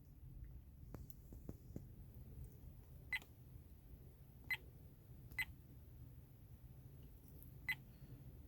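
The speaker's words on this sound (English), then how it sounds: "anywhere you're touching the screen, it beeps" Four short, high electronic beeps from an Apeman C770 dashcam touchscreen sound at irregular intervals over a quiet room hum, with a few soft taps on the screen before them.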